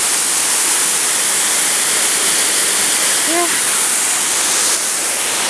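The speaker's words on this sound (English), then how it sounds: "Beautiful. This waterfall." A waterfall roars as a dense, steady wash of loud white-noise-like rushing water, filling the whole moment without a break.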